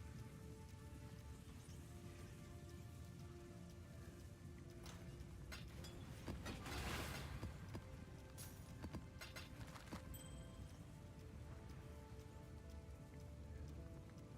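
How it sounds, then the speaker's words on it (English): Horse hooves clip-clop faintly in the background of a Path of Exile map with rain-like patter, a soft steady rhythm with no talking over it. "A horse, of course."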